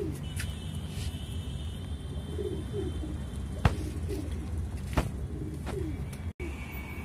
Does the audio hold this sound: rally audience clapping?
no